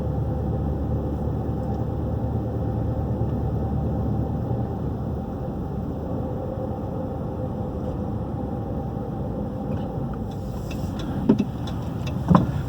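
A car rolls steadily through downtown Lovejoy, Georgia, its low road and engine rumble continuous and close, with a few brief knocks and clicks near the end.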